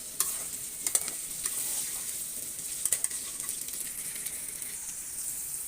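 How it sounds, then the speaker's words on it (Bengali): Potato pieces frying in a pan of oil for beef bhuna, a steady bright sizzle with occasional louder pops and crackles, stirred now and then, close and continuous with no talking. "আমি দেখতে পাচ্ছেন আমি আলুগুলো ভেজে নিচ্ছি"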